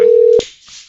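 A single steady telephone tone sounds clearly, then cuts off into a brief click and near silence, like a telephone line's DTMF dialing or dial tone.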